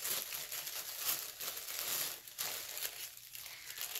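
Tissue paper wrapped around a jewelry subscription package crinkles and tears as it is unwrapped, a continuous close, soft rustling with irregular louder crackles throughout.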